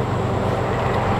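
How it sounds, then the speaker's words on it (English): A train passes near an abandoned brick factory as a brief, continuous low rumble that stays steady and fairly loud throughout, with no voices. "Oh no, it's a train."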